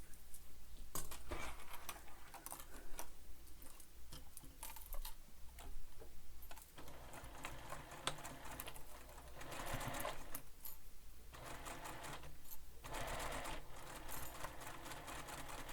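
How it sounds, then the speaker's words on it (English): Sewing machine stitching mesh onto backpack binding, a fast steady mechanical chatter running in bursts with short pauses between runs, close and fairly loud, no talking. "And we're going to sew this together."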